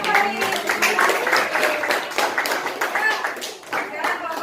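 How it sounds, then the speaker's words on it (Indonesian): Applause rings out in a classroom for a student group that built a series electric circuit, a dense patter of many hands clapping continuously throughout, with voices mixed in. "Tepuk tangan untuk kelompok Fahri."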